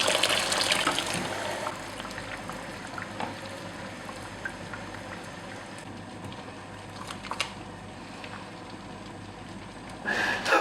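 Water splashes and gushes into a pot of ogbono soup at the start, then a quieter stretch of faint cooking noise, ending with another brief burst of pouring.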